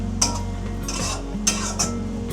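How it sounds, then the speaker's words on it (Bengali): A paste of green chilies, garlic, ginger and cumin frying in a pan, with a soft steady sizzle and a few sharp scrapes of a spoon against the pan while stirring. "কিছুক্ষণ একটু ভাজবো।"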